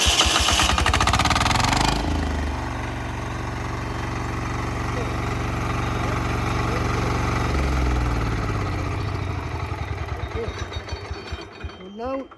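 A Husqvarna 25H diesel walking tractor is key-started and runs close by, a loud crank and catch followed by a steady mid-pitched diesel chug, which slows and sputters toward the end as the engine shuts off.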